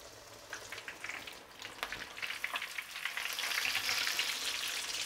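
Panko-coated crispy chicken frying in a pan, a loud crackling sizzle that thickens and grows brighter as it goes, with scattered pops.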